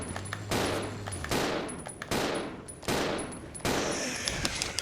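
Gunshots fired at a zombie in the video game Resident Evil 0: four loud, sharp blasts roughly a second apart, each with a long reverberant tail, no speech over them.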